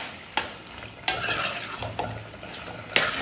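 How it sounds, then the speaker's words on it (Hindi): A spoon scrapes and stirs through creamy chicken karahi in a pot, giving a few sharp metal knocks on the rim between soft, sizzling swishes, close and moderately quiet. "ये देखिए, मिक्स करेंगे अच्छे तरीके से।"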